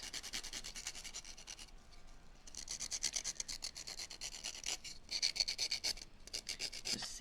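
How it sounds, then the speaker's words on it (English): A small sanding block rubs back and forth over an uncured resin miniature piece, giving steady close raspy strokes in quick rhythmic bursts with a brief pause midway. "sand it a little bit"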